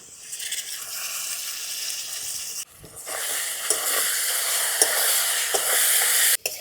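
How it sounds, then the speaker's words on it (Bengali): Potatoes stirred with ground spice paste, turmeric and salt fry in a pan, giving a loud close hiss and sizzle that cuts out briefly and then resumes, with a few sharp pops. "আলুর সাথে মশলাটা হালকা কষিয়ে নিয়েছি"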